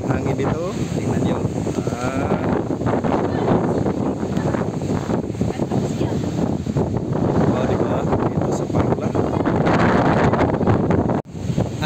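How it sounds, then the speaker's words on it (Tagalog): Strong wind buffets the microphone with a constant roar at a lighthouse, and people talk over it throughout. "Ganda ng hangin dito."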